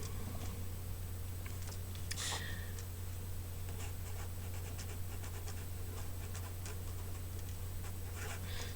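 Comments being written out for a math problem, soft scratchy pen or marker strokes coming in short bursts over a steady low hum, with no talking.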